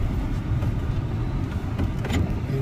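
A car drives near the Grand Canyon in winter, a steady low engine and road rumble from inside the cabin, with a few faint clicks over the drone.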